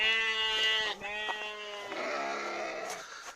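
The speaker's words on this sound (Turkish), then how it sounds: "Koyunlarım burada keyif yerinde." Sheep bleat on a farm in light rain, with several long, wavering calls overlapping close by and then a rougher, lower bleat following.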